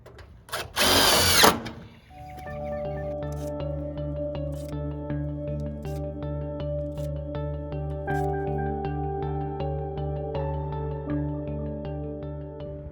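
A power drill fastens a brush seal kit onto a roll-up door, with a short loud burst followed by a long, steady whirring hum. Sharp clicks break through the whir at intervals.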